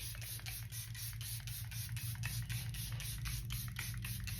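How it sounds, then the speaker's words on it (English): A rapid series of short bursts of Charlotte Tilbury Airbrush Flawless Setting Spray hiss in quick rhythm, close and fairly quiet, continuing steadily throughout with a low hum underneath. "To lock in this look, I'm going to use the Charlotte Tilbury Airbrush Flawless Setting Spray."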